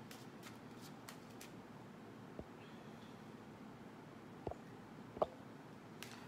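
Playing cards are quietly shuffled with a soft, steady riffling hiss, broken by a few sharp snaps as individual cards are flipped, close by in a calm room.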